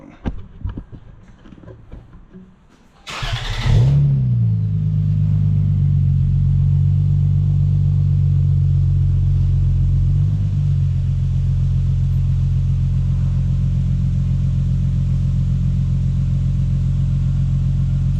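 Stock exhaust of a Lexus GS300 idling close by: a steady, deep rumbling drone that holds unbroken for about fifteen seconds, after a brief burst of handling noise and faint talk before the engine note settles.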